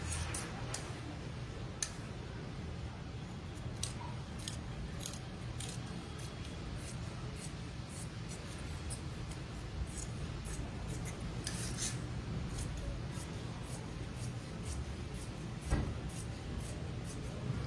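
Scissors snip steadily through fabric while a Kotori blouse is cut out, giving a fast run of faint ticks over a constant hiss, with one louder snip near the end and no talking.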